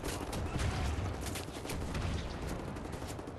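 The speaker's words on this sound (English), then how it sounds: "I was shooting him in the face with that shotgun." Shotgun blasts and gunfire in Wolfenstein: The New Order: a dense, continuous barrage of rapid shots and bursts layered over a rumbling low roar, busy and relentless throughout.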